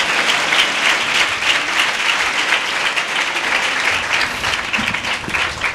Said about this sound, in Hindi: लिए जोरदार तालियां बजाएंगे।